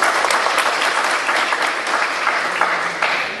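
An audience claps steadily and fairly loudly throughout, a dense unbroken patter of many hands.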